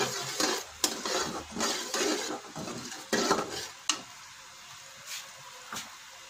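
Sweet colostrum milk syrup cooking in desi ghee is stirred in a pan, giving bursts of scraping and soft sizzle with a few sharp spoon clicks against metal, quieter toward the end; no voices.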